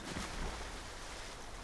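Waterfall in Ghost of Tsushima, a steady broadband wash of rushing water, continuous and fairly soft with no other sounds.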